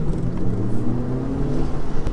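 An Audi S3 engine pulls hard under acceleration in a street race, a steady low rumbling drone with rising revs that stays loud and close throughout, with no talk over it.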